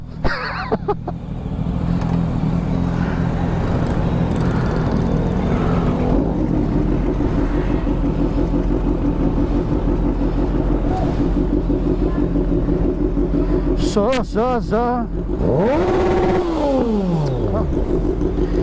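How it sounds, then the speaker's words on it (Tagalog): A loud BMW K1200R motorcycle engine rumbles steadily up close, then revs sharply several times near the end with rising and falling pitch. "BMW 1200, ayan, K12R bike ni Kuya Norman."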